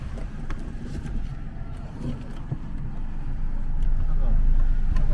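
A Kia Morning car engine starts smoothly and settles into a steady idle, with a low rumble that swells toward the end while people talk over it.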